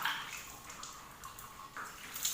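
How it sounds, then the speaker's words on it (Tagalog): Water runs steadily over oily hair during a rinse before an anti-dandruff treatment, a close, continuous splashing hiss with small surges and no talking. "Bawa natin ng tubig lang."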